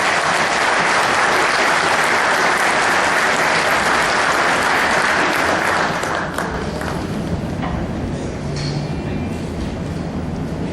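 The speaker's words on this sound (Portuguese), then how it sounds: "Com os aplausos de todos os presentes." An audience at a São Paulo municipal council ceremony applauding, a dense, loud burst of clapping that holds steady for several seconds and then thins out toward the end.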